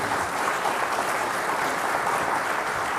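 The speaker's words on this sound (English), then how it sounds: "Let's have a loud round of applause for everyone." An audience at a panel session on AI for development gives a loud, sustained round of applause, a dense continuous wash of many hands clapping at steady volume.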